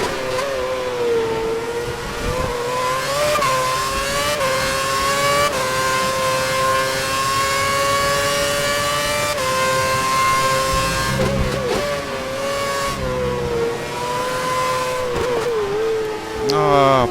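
Williams Formula 1 car engine in the F1 2011 racing video game at Istanbul, a loud sustained high-pitched whine that rises and falls with gear shifts and revs, with someone talking over it.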